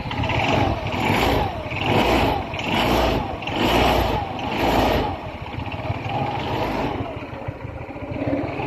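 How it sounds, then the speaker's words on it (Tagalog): A Euro SIP 125 motorcycle engine runs steadily up close, pulsing in rhythmic surges for about five seconds before settling into an even idle. "umandar ang motor ni Honor"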